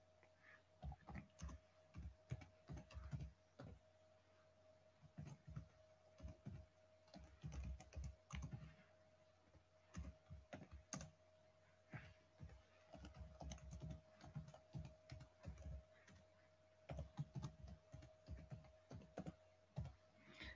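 Close, quiet keystrokes on a computer keyboard as Java code is entered in the NetBeans 12.3 editor, arriving in irregular quick bursts with brief pauses between runs, alone without talk.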